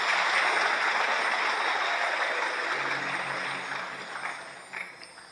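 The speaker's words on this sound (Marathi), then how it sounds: "एकदा अभिषेकी जोरात टाळी झाली पाहिजे त्यांच्यासाठी" Loud, steady applause from a large audience at a Marathi Shiv Puran katha gathering, sustained for several seconds before gradually thinning out toward the end.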